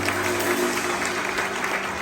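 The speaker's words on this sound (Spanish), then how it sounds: "Dale un aplauso al Señor en esta mañana." A church congregation applauds during a Spanish-language evangelistic service, a steady wash of many hands clapping throughout, fairly loud and unbroken, with a faint hum beneath.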